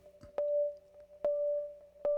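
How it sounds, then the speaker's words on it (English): A bright, metallic FM synthesizer tone from a Kurzweil 2700 sustains steadily, with three soft clicks spaced evenly across it and faint low hum underneath. "the metallic sound starts to come back on, which is typical of FM"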